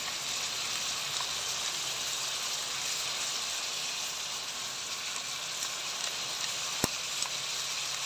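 A whole batch of onions frying in a pan makes a continuous, fairly loud crackling sizzle close by, with one sharp tap near the end and no voices.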